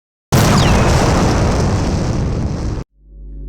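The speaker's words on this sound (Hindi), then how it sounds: "सारा अब गोली चलाती है," A single gunshot sound effect in a horror story fires as one loud, sustained blast that roars for over two seconds before cutting off abruptly, followed by a faint low rumble.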